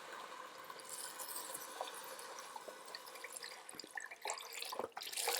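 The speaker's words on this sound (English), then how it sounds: "I'm now going to add this container of vegetable broth." Vegetable broth poured from a container into a soup pot of vegetables, a soft continuous splashing trickle with faint liquid gurgles and a few clinks near the end.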